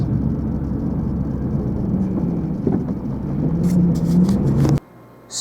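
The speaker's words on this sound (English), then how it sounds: "Fleet of dump trucks." A dump truck engine drones steadily at a recycling center, loud and close with a rising whir near the end before it cuts out abruptly.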